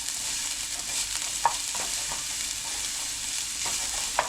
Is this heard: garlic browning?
yes